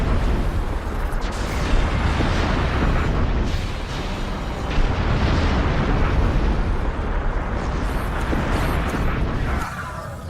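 Explosions in the game Star Trek Online, Romulan Republic campaign: a close, loud barrage of repeated booms and bursts over a constant heavy rumble, with several sharper blasts standing out and no talk.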